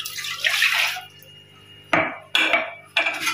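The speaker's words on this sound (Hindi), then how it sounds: "थोड़ा पानी और लूंगी" Water for pizza dough pours in short bursts from a tap, a splashing stream at first and then three quick sharp gushes with quiet gaps between, close by.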